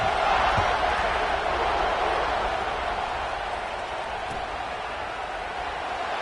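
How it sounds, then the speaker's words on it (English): A stadium crowd in the College Football 26 video game buzzing after a score, a steady, broad wash of cheering and murmur held at an even level for several seconds, with no clear speech over it. "this crowd is buzzing after that last score"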